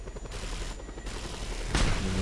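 A helicopter in the video game Just Cause 2 fires a rapid, continuous stream of gunfire and rockets, loud and close, ending in a heavier blast-like burst near the end.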